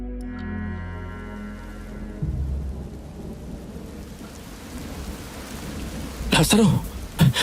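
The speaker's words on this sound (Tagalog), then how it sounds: "Nagbabadyang malakas na buhos ng ulan." Heavy rain pours steadily while low thunder rumbles, with a few sharper cracks and bursts breaking through near the end.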